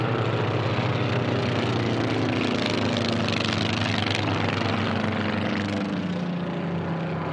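A racing airplane at the STIHL National Championship Air Races roars past a pylon, a loud, close, sustained propeller-engine drone with a slowly falling pitch as it goes by.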